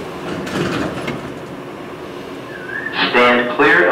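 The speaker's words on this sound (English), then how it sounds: "This train is leaving the station." Station sounds of an airport people mover train at a terminal, a steady rumbling hum followed near the end by a brief rising tone and louder clattering noise.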